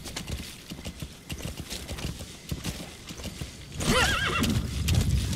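D-Horse in MGSV: The Phantom Pain, hooves clip-clopping in a steady gallop rhythm, then a loud rising whinny near the end, close and unaccompanied by talk.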